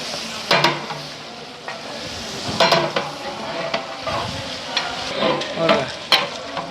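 Twenty-six kilos of fatty, bony mutton sizzles in a large pot with tomato and masala for Dindigul biryani, stirred repeatedly so scraping clanks and bursts of frying recur over a steady hiss, with no talk.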